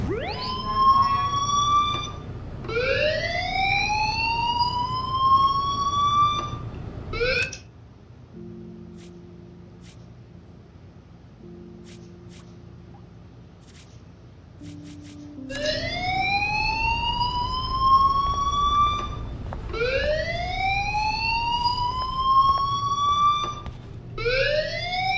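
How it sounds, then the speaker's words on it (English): Fire alarm from the game Life Is Strange: Before the Storm, loud rising whooping siren sweeps repeating in quick bursts, cutting out for several seconds to a low hum before resuming. "do you hear that fire alarm?"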